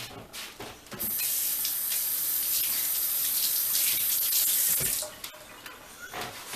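A kitchen tap runs in a steady, close hiss for about four seconds while a green habanero pepper is rinsed under it, with light handling knocks before and after.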